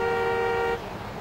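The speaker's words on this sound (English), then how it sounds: "Honking your horn?" A single sustained video game car horn blares for under a second, then cuts off, leaving low background noise.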